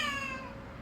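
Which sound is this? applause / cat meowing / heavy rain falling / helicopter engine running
cat meowing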